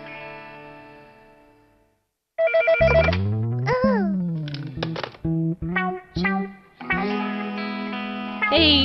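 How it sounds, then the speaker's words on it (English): A toy-like telephone rings in a children's cartoon, a bright electronic warbling tune with shifting notes and short bursts after a brief pause. "Hey, Tulli, you've discovered a phone."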